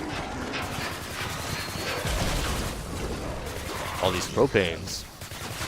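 Rapid gunfire from a video game gun, a fast continuous stream of shots at moderate level, with someone talking over it.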